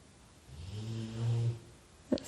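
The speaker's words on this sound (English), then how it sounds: "That's a very loud snoring dog" A single loud, drawn-out snore from a dog nearby, a rumbling breath with a short snort at the end.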